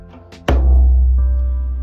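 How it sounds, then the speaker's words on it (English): Djembe bass tone struck with the whole palm, a single deep booming hit that rings on and decays slowly, preceded by a couple of lighter taps. "So now let's go over our three main sounds on the djembe."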